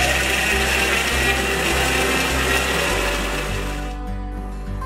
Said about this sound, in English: we'll add some garlic, we'll add some tomatoes, and we'll again grind it.